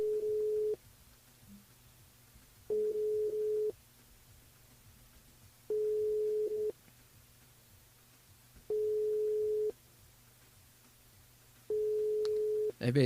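A telephone busy signal repeats about five times, steady beeping tones with even pauses on a call placed to a radio listener during a live broadcast, heard alone with no talk.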